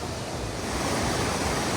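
Steady broadband rush of water flowing among trees along a waterfall hiking trail at Etiwanda Preserve in Southern California, a continuous close wash with no talk.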